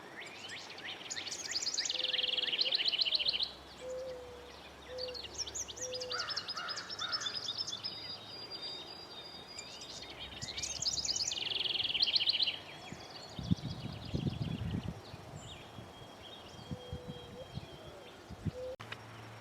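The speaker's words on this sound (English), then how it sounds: "The house wren is a gorgeous little bird" A small, energetic house wren sings bursts of rapid bubbling, trilling notes outdoors, repeated several times with pauses, fairly faint amid other distant bird calls and a brief low rumble.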